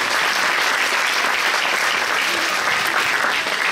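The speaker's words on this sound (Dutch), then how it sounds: "Geef ze daarvoor een applaus, Cathy Frederiks en Dennis van XL Mode." A pageant audience at the Miss Limburg International Belgium 2020 jury presentation claps steadily, a dense, even wash of applause that holds at full strength for the whole stretch.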